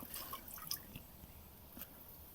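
Water drips inside a hillside cave shrine, a few soft, irregular drops falling close by against a quiet, faintly reverberant background.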